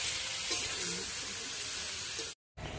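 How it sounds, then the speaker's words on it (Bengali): A small amount of cumin seeds fries in hot oil with a soft, even hiss, close by. The sizzle cuts out briefly near the end. "পুরো অল্প কটা জিরে বাঁধাকপির জন্য ভেজে নেব।"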